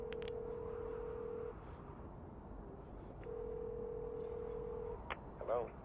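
Payphone dialing in the video game Beyond: Two Souls: a steady tone holds, breaks off, then sounds again, followed by a few quick beeps, all close and clear over a low background hum.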